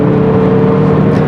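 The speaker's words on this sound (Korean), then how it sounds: "엔진 소리가 조용한 차는 아닌데 처음부터 회전수와 비례해서 일정하게 커집니다" A Jeep Renegade with a 1.3 Multijet diesel engine revs under acceleration, a loud steady engine drone with a strong low hum filling the whole moment, no voices.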